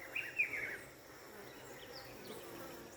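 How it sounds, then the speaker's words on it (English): Honeybees returning to a hive with pollen buzz faintly in the open air, a brief louder hum at the start that drops to a soft background drone. "bees coming in with pollen constantly"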